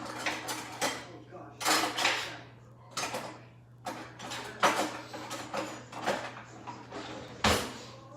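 Metal cutlery clatters and clinks in a kitchen drawer as a knife is fetched, a series of short rattling bursts, nearby and fairly quiet, with irregular pauses between them.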